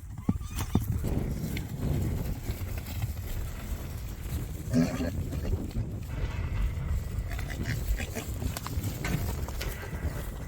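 Horses shifting about a breeding pasture, with hoof clip-clop and a neigh or whinny rising over a steady outdoor background; brief human voices are faintly present.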